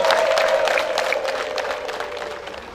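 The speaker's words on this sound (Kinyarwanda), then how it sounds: "amashyi n'impundu ku munsi w'umuco w'impundu zitaboneka" An outdoor crowd at the Umuganura harvest festival claps steadily at a moderate distance. The applause holds even and then slowly fades, and a faint tone runs beneath it.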